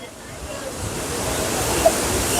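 Forceful rushing water at a scenic spot in Wayanad, a continuous heavy whooshing roar that swells slightly, with wind buffeting the microphone and a brief soft knock near the end.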